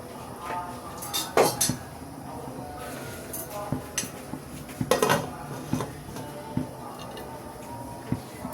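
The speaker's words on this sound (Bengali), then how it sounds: "এখন এটাকে আমি ঢাকা দিয়ে দিচ্ছি।" A metal lid goes onto a pot of mustard okra on the stove, with several sharp clinks and clatters over a low kitchen background.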